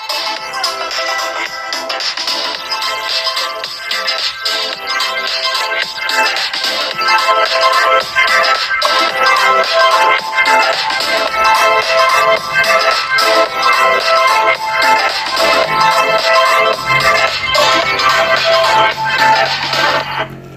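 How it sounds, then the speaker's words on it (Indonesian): A Vivo Y35 phone plays a test track through its single mono speaker with Audio Booster 2.0. The playback is loud, steady and tinny, with dense music-like sound running throughout and no talking. "Terakhir kita akan coba cek suara speaker pada HP ini."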